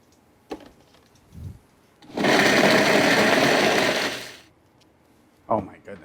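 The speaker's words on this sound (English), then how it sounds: "Drop these guys right in the blender too." A blender purees soaked guajillo chiles with some of their soaking liquid, running as a loud, steady motor whir for about two seconds between quieter moments with faint clicks.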